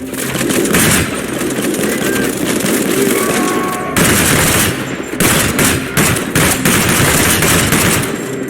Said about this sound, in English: Well, who's shooting me? Maybe those Germans on the far ridge.